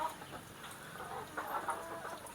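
Native chickens in galvanized battery cages give a steady wash of soft clucking and murmuring from several birds at once, close by and continuous, with a few slightly louder calls standing out near the end.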